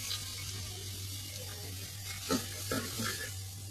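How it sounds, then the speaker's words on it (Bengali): Onions fry in a pan with a soft, steady sizzle under a low hum, and a few quiet stirring scrapes come near the end. "পেঁয়াজ দিয়ে দিলাম, দেখো"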